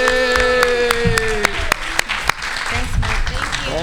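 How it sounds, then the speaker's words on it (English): Conference audience applauding panelists in Pasadena: rhythmic individual claps and crowd clapping under talking and a cheer, fairly loud and close. "let's give our panelists a big round of applause"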